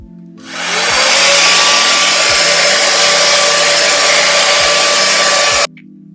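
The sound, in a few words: hair dryer tool, Dyson Airwrap dupe, blowout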